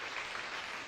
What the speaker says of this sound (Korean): 박수 안 주시나요?